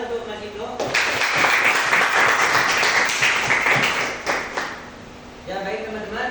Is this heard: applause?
yes